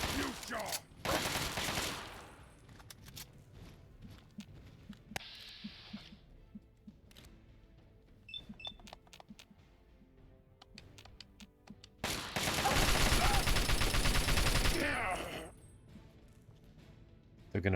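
Bursts of rapid video game gunfire come in two loud volleys, one short and one sustained, with scattered single shots between, under occasional talk.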